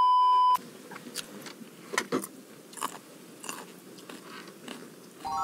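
Crisp, crunchy bites and chewing of a raw carrot, repeated irregularly and close up, with no talk over it.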